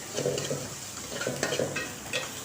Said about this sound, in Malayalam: പിന്നെ നല്ലപോലെ ഒന്ന് ഇളക്കി കൊടുക്കുക.